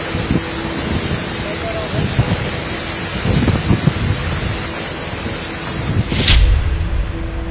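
Heavy rain pours over Delhi NCR with strong winds, a dense, steady hissing roar throughout and a sharp gusty surge near the end.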